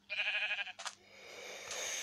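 A black goat bleats in Minecraft, a wavering, nasal cry lasting most of a second, then a short second bleat, followed by a rising hiss of game background noise.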